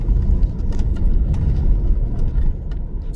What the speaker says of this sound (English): It's a lot of traffic.